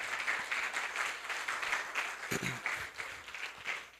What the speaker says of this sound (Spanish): Dar un fuerte aplauso.